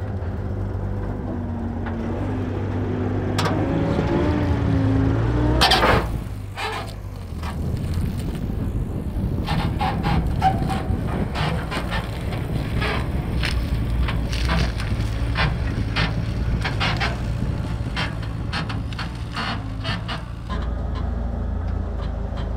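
Military vehicles rumble across an M48 AVLB bridge, their engines droning under repeated sharp clanks, creaks and cracking knocks from the bridge deck.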